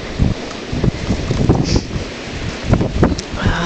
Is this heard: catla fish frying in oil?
no